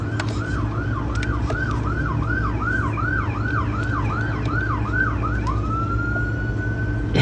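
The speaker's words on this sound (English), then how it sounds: "you'll be hearing ambulances and stuff coming by" A loud wailing ambulance siren, passing near a hospital, cycles rapidly up and down, then shifts to a long steady tone, over a constant low hum of traffic or machinery.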